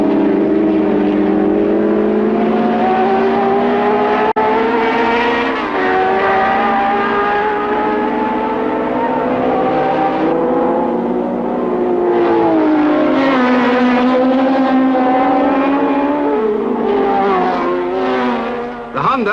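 Lotus and Honda Formula 1 cars of 1967 racing at the German Grand Prix, engines holding a sustained loud, rising and falling howl throughout as they pass and chase, with faint commentary underneath.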